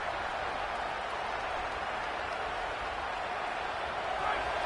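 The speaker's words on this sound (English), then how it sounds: "This crowd trying to make life miserable for this offense." Stadium crowd at a college football game, a dense, steady roar filling the space evenly, with no distinct cheers or breaks.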